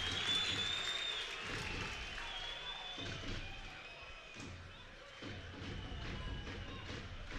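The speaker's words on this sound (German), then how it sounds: "Applaus." A football stadium crowd applauds at a Regionalliga Südwest match between FSV Frankfurt and Kickers Offenbach, a distant, faint wash of clapping with scattered cheers, and a commentator's voice occasionally over it.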